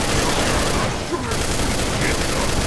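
Rapid plasma gun fire in Project Brutality Doom, a dense continuous barrage of shots that fills the whole stretch, loud and close, with a brief dip midway.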